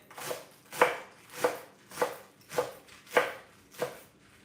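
A chef's knife chops lettuce on a board for a taco salad, seven steady crisp strikes about every half second, close and fairly quiet with no talking.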